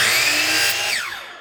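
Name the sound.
power saw cutting a 30-degree miter in wood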